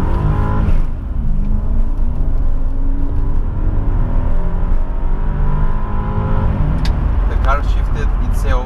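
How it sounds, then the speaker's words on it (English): A BMW 745i E65 pulls away from first gear at full throttle, its engine roaring loud and close as revs climb steadily, then a brief dip and renewed surge near the end, with wheel spin noted. "I will now start from first gear with full throttle"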